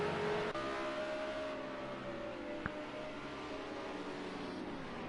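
Race car engine at Imola in an AllComers race, droning steadily at a distance as the driver puts the throttle down, with a single brief knock midway and no talking.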